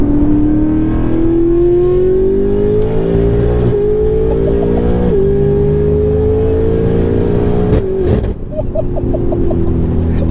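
A 1356 bhp BMW M5 accelerates hard on a street, its engine roaring loud and close as the pitch climbs through several gear changes, each marked by a brief dip before pulling upward again.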